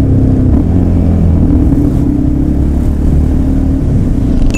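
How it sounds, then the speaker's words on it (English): A motorcycle engine runs loud and close as the rider slows for a corner, a steady low rumble with a slight drop in pitch and no speech. "This one means I am the new Valentino Rossi and I'm slowing down for a corner."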